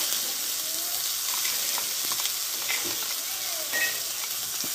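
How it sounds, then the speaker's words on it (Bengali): Carrot paste fries in hot ghee in a wok, giving a steady bright sizzle with soft stirring scrapes and occasional small pops, close and even. "দেখো ঘিটা আমি একটু গরম করে নিয়েছি। এইবার এই পেস্ট করা আমি গাজরটাকে কিন্তু দিয়ে দেবো।"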